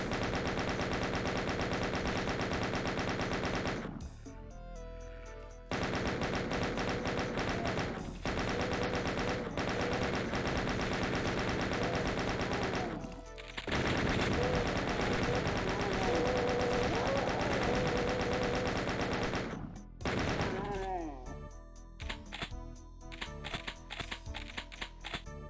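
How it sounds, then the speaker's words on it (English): Chaingunners firing machine guns in a shooter video game, a dense sustained chatter of automatic fire that breaks off briefly and resumes, loud and continuous amid game music and effects. "there's some chain gunners firing at me"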